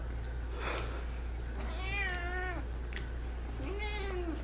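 Cat meowing indoors, two drawn-out wavering meows with a shorter faint call before them, moderately close over a steady low background hum.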